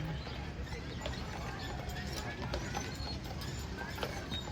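Horses on Mackinac Island, hooves clip-clopping in a loose rhythm amid busy outdoor street noise, with faint voices in the background.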